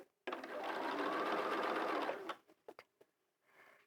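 A sewing machine runs steadily for about two seconds while stitching a hat, then stops and gives way to a few sharp clicks and a faint rustle.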